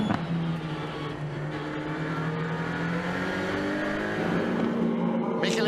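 Race cars lapping the Nurburgring Nordschleife in Germany: a steady, loud engine drone with shifting pitches fills the whole stretch, like several cars passing at speed, with a commentator's voice blended into the noise.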